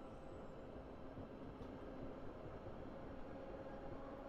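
A passenger train runs on rails through South London toward Battersea Park and London Victoria, giving a steady, even rumble and rattle of wheels for several seconds with no voices.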